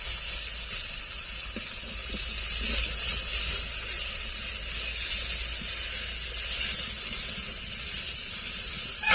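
Coconut milk hitting well-fried spices in a hot pan for a village-style pointed gourd curry gives a continuous, even hiss and sizzle that holds close and steady for about nine seconds, with no talking.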